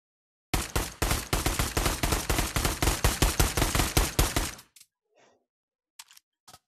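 A pistol fires in a fast, steady string of roughly two dozen sharp, close reports over about four seconds. Then near silence follows, broken only by a few soft clicks.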